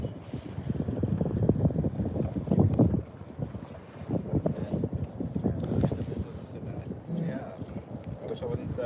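Boat moving on the water with wind buffeting the microphone and splashing, while a person talks intermittently over the noise.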